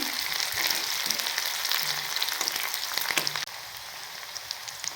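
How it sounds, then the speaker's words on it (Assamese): Onions crackle and sizzle in hot oil in a kadai, a dense close frying hiss with light stirring that drops noticeably quieter near the end; nobody speaks. "ধুনীয়াকৈ অকণমান ভাজি ল'ম পিঁয়াজখিনি"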